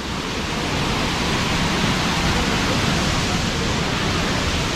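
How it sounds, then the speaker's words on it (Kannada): Harvalem waterfall in South Goa, a dense, loud, unbroken roar of plunging water filling the whole scene with no pauses or distinct events. "ನೋಡಿ ನೀರು ಧುಮುಕ್ತಾ ಇರೋದು ನೋಡಿ, ಕೇಳಿಸ್ತಾ ಇದೆಯಾ?"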